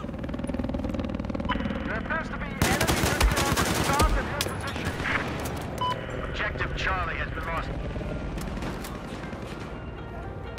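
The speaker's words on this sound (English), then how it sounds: "I'm taking heavy fire over here." Heavy automatic gunfire in a Battlefield 4 multiplayer match on Xbox One, with a loud dense burst of rapid shots in the middle and scattered shooting continuing around it while a player talks.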